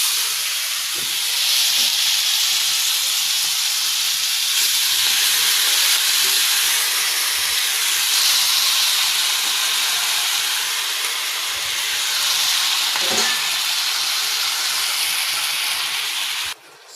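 Garlic frying in melted butter in a pan for butter shrimp gives off a loud, steady hissing sizzle that runs unbroken for the whole stretch, with a few faint clicks and no voices.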